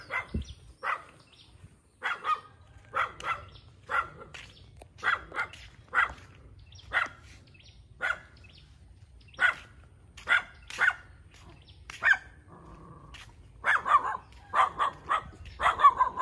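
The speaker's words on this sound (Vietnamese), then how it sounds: "anh chị nghe chó nó sủa không?" Dog barking outside near a rural garden plot in Tiền Giang, Vietnam, a string of sharp, evenly spaced barks at moderate distance, quickening into a denser volley toward the end over a faint low hum.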